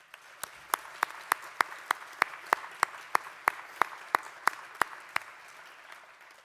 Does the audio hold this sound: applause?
yes